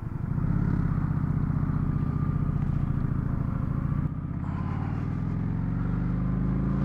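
A motorcycle engine drones and accelerates, its pitch climbing steadily, then briefly dropping at a gear change before rising again, loud and continuous close to the microphone with no talking.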